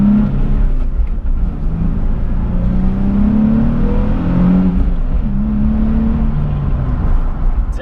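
A Nissan 370Z pulls hard in first gear, its engine note climbing in a loud, continuous rising whine with a brief dip partway through, close and without any voices.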